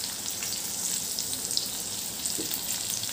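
Sabudana khichdi with salt and crushed peanuts fries and is mixed in a pan, a soft, steady sizzle with light scraping, fairly quiet and without talk.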